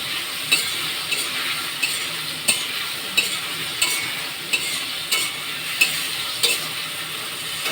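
Cauliflower fries in a pan with a steady sizzle, while a utensil scrapes and stirs in regular strokes roughly every half second to second, close and clear with no talking.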